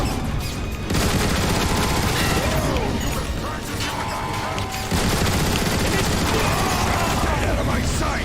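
Gunfire rattles in Transformers War for Cybertron, dense mechanical bursts of shots and clanks layered almost continuously, loud and close, with faint voices underneath.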